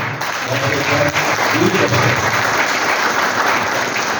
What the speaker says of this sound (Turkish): Kendisini sizlerin alkışlarıyla ben de kutluyorum.